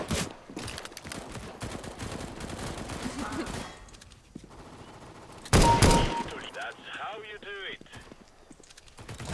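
Rapid bursts of gunfire from bots in a CS:GO Arms Race match, loud sharp volleys among game sounds and clip-clopping effects, with someone talking excitedly in Hungarian over the action.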